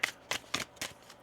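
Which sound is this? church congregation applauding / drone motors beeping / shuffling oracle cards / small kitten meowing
shuffling oracle cards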